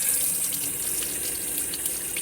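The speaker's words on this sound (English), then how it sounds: "Turn the hot water on." Hot water runs steadily from a tap in a constant hiss, alone and unbroken.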